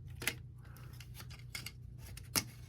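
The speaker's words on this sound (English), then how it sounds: "Then we'll spin the cab. That will click." Small plastic Transformers toy cab being rotated, giving a few crisp clicks and ratchety snaps spaced unevenly over a couple of seconds, close and quiet with no talking.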